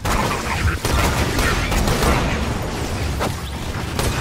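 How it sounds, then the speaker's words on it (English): Dense, continuous rumbling battle noise in Borderlands 2, with heavy booms and crackling blasts from a grenade explosion amid gunfire, loud and sustained across about four seconds. "I think he just threw a grenade at me."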